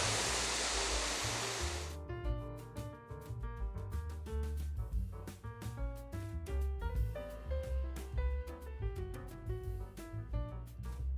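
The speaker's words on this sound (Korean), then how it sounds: "이렇게 다리 위에서 바로 폭포를 직관할 수 있기도 합니다" Jaein Falls roars as broad, dense rushing water heard from a bridge, loud and steady for about two seconds before background music takes over and continues to the end.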